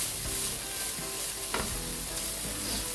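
Cabbage goes into a hot pot and is stirred for Jamaican steamed cabbage, giving a close sizzle with quick scraping stir strokes and soft clatter, and no talking.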